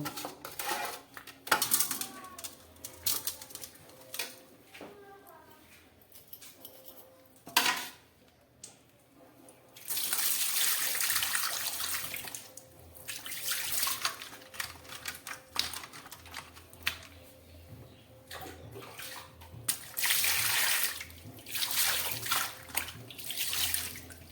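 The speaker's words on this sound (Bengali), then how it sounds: "এবারে আমি খুব ভালো করে এটাকে জল দিয়ে একটু ধুয়ে নেব।" A whole scaled fish being rinsed under running tap water, with bursts of gushing, splashing water alternating with handling clatter and quieter pauses, no talk.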